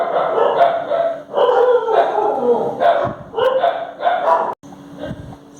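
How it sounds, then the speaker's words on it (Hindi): Stray street dogs bark repeatedly in a residential lane, loud overlapping barks in rapid bursts filling the whole stretch. "हमारे गली में कुछ नाजायज कुत्ते हैं, वो भौंकने लगे थे"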